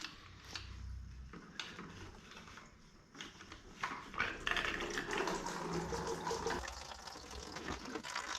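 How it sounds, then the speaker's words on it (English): Engine coolant from a Suzuki DRZ400S draining into a container: a quiet, continuous trickle and splash of liquid, with a few small knocks and handling noises. "You gotta hold it like this, so the coolant comes in here and drops out of here, right into the container"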